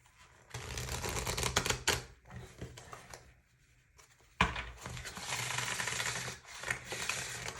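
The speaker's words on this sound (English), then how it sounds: "as I'm shuffling the deck, sometimes I have a bad shuffle" A tarot deck is shuffled in quick papery riffling bursts, close and fairly loud, then a brief quiet pause before a longer, denser run of shuffling. No one speaks.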